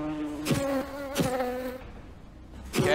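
Bees buzz in a casual video game, with several close, whining passes that swell and fade, separated by brief quieter gaps.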